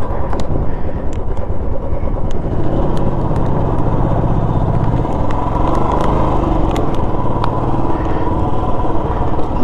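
Motorcycle ridden on a rough, potholed mountain road on the Losar to Manali route in Spiti, its engine droning loud and steady with constant rumble and wind roar, scattered clicks and knocks from the bumpy surface.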